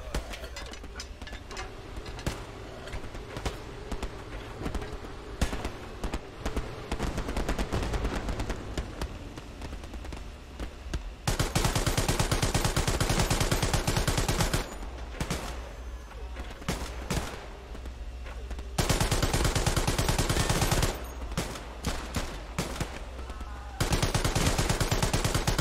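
Gunfire rattles in the game Hell Let Loose, with dense bursts of rapid automatic shots and heavy blasts in long loud stretches separated by quieter gaps, with little talk.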